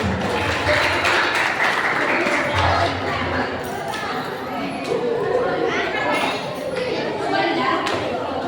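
A church crowd claps and chatters, a dense, sustained patter of hands mixed with voices and occasional thumps from a congregation with many children present.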